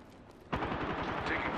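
Rapid gunfire breaks out in the video game Apex Legends with the character Horizon, a sudden burst of quick repeated shots after a quiet moment. It sounds close and continues to the end.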